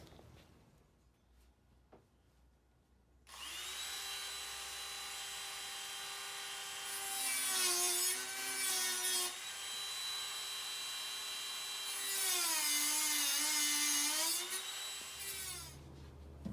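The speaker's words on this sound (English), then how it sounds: "So I just cut through the side of this nut enough to get a cold chisel in there" A cutoff tool or small grinder bites through the side of a seized windshield wiper nut on a 1988 Dodge Raider, a steady loud whine that rises and dips in pitch as the load changes, following a quiet start.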